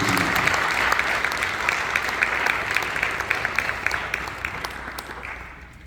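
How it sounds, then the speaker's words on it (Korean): A crowd applauds steadily at a church ordination service, with dense clapping that slowly fades out over a few seconds. "큰 박수로 부탁드립니다."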